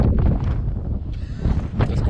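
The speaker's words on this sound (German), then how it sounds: "Aber es ist unnormal windig." Strong, gusty storm wind buffets the microphone in a loud, uneven rumble, with a brief bright rush partway through.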